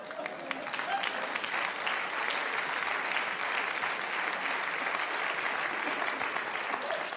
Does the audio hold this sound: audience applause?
yes